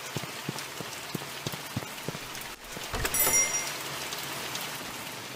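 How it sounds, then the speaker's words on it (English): Constant rain patters in the horror video game The Mortuary Assistant, with scattered drips ticking on a surface. Midway it briefly drops out, then returns louder with a dull thump and denser downpour. "Rainy day out."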